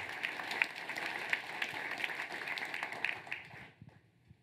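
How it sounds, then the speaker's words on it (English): A conference audience at a closing session applauds with scattered, moderately distant claps that stay steady for several seconds and then quickly fade to near silence. "a big round of applause for those guys as well"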